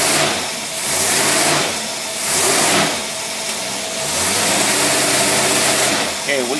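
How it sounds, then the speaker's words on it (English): An engine with a Carter carburetor running on a dyno, revving hard in repeated rising surges toward the rev limiter with a loud broad roar throughout, a voice talking over it. "we pulled her up there until it hit the rev limiter"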